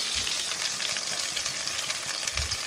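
Ground spice paste fries in leftover shrimp-frying oil in a wok, a steady close sizzle and crackle with occasional stirring scrapes, continuous throughout and with no talk.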